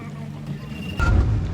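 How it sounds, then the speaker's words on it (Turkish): A tour boat's engine churns in reverse gear as it pulls away from shore among Thailand's islands, a low rumbling drone under wind that surges louder partway through as the throttle picks up, with people talking nearby. "Geri vitese taktı kaptan."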